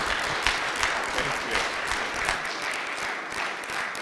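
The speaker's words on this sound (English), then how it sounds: "let's give a round of applause for Thomas Reed" An audience applauds speaker Thomas Reed at a macOS security conference, with dense, steady clapping filling the room at a moderate distance for the whole stretch.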